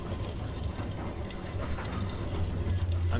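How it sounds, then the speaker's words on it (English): Inside a train station in the video game Off Peak, a steady low rumble fills the space, like a train idling or rolling nearby. It continues evenly throughout with no talking. "I'm guessing this is the train station."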